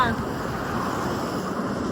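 Steady rushing of the flowing Kaveri River, a constant broad wash with gusty, noisy texture, loud and continuous throughout.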